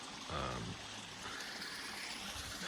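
A small waterfall on a steep mountain creek near 6,000 feet in Oregon gives off a steady, broadband rush of flowing water. It holds evenly throughout, with faint speech-like sounds briefly in the background.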